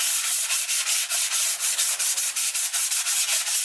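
Hand sanding a surfboard with quick, rhythmic back-and-forth rasping strokes, steady and close, about four strokes per second with no voices.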